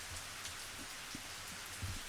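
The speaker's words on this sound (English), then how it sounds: "The rain was still coming down hard." Heavy rain in the video game Higurashi, a steady dense downpour with scattered drop patter and no talk.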